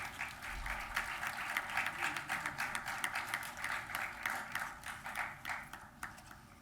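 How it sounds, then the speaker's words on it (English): A crowd claps at a formal MoU signing ceremony with IIT Gandhinagar, a steady rippling round of applause that sounds slightly distant and fairly quiet, with no talking over it. "Everyone, please give them a big round of applause."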